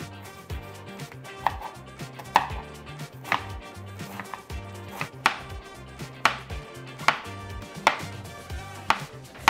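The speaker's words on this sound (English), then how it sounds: "Just gonna cut it up into small dices because we're going to actually saute it, so it doesn't have to be perfect." A knife dices mushroom on a cutting board in steady, evenly spaced chops, close and crisp, with soft music underneath and no talking.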